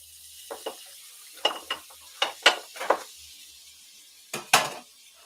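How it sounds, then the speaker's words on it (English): Butter goes into a hot cast iron pan and is stirred to start a roux, with short clinks and scrapes of a utensil against the pan in a scattered rhythm over a faint, steady hiss. "It's time now to start ourselves our roux. And that means we get to throw in butter."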